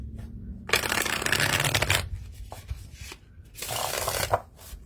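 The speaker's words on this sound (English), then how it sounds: "Get a good shuffle." Tarot cards from a Rider-Waite-Smith Panorama deck being riffle-shuffled close by, two bursts of crisp rapid flutter separated by softer handling taps, with no talking.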